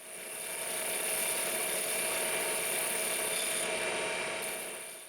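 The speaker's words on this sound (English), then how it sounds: "to practice a little with a skew chisel, I make a cut to smooth the cylindrical surface" A skew chisel smoothing a spinning wooden cylinder on a lathe makes a continuous, even rasping hiss, close and steady for the whole stretch with no talk.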